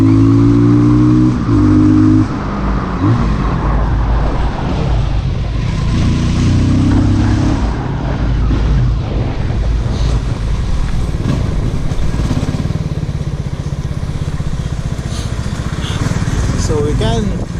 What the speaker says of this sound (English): We'll do a small bit acceleration in this.